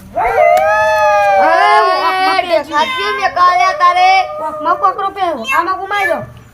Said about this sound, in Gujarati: કૂતરો રોતો હશે